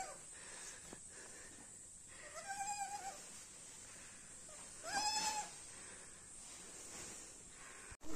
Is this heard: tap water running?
no